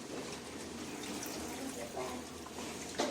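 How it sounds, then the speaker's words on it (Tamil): Water from a jug is poured into a pot of wild boar curry, a steady splashing, trickling pour heard close up and continuing throughout. "கறி முழுகிற அளவுக்கு இப்போ தண்ணி ஊற்றி கப்புன்னு மூடி வச்சிடலாம்"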